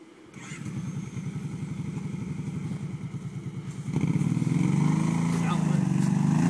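A Kawasaki Brute Force ATV, prone to stalling, chugs at a close, rhythmic idle, then its engine swells into a louder, heavier rev partway through and stays up.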